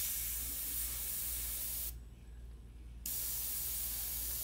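Spray paint hissing onto a hat, a steady loud aerosol hiss that cuts out for about a second before resuming at full strength.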